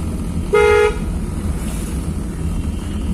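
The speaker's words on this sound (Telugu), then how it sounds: "horn ఒకటాలి horn ఒకటాలి" A single short car horn toot during a driving lesson on a road, loud and near over a steady engine and road hum, with no other horn after it.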